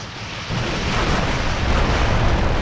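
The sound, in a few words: video game missile explosion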